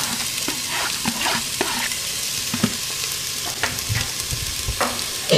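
Finely chopped onion sweating in a pan while being stirred, with a steady soft sizzle under repeated scraping and clinking strokes of a utensil, close and moderately loud, no talking.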